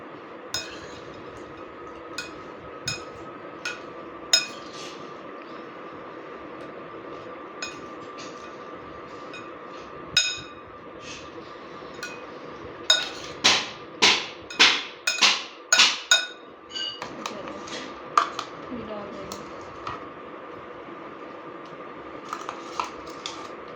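Spoon clinks against a bowl while fruit chaat is stirred together with murabba, a run of light, bright taps coming faster and louder in the middle, then scattered softer clicks near and alone.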